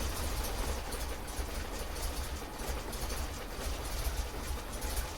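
An MGB GT car engine idles steadily after a timing adjustment with a low, even rumble, constant and unbroken throughout, with no voices.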